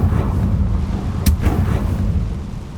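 A Confringo spell blast in Hogwarts Legacy, a single booming explosive burst rising out of a loud, dense rumble of game sound, close and forceful.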